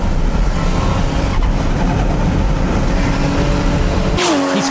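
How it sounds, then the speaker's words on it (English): A Toge Max race car with 550 horsepower pulls hard at full throttle, its loud engine roaring steadily up close before a rising high-pitched whine near the end. "Tsuchiya is going full throttle right from the start."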